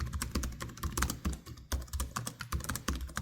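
Rapid keystrokes on a premium 14-inch laptop keyboard, close and crisp, with an irregular flurry of clicks and taps and no voices.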